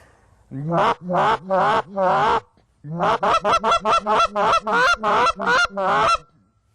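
A handheld goose call blown to imitate the low-end honk of a Canada goose, sounding as a few long honks and then a rapid run of shorter, clipped honks, close and loud.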